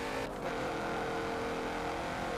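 A car in the Forza racing game cruises along a motorway, its engine holding a steady, droning note throughout with no speech over it.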